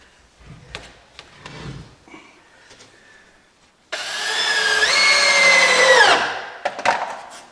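A power drill whirs for about two seconds, bolting a wood burning insert down into its hole in new construction, loud and close, with the pitch rising then dropping, amid scattered handling knocks and scrapes before and after.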